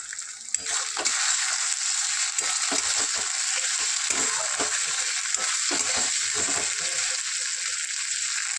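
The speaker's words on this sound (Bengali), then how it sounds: "এরপর এতে আমি আদা রসুনের পেস্টটা দিয়ে দেব।" Ginger garlic paste sizzles and fries steadily in a pan with onion and tomato for aloo dum, a loud continuous hiss with occasional stirring scrapes, no voices.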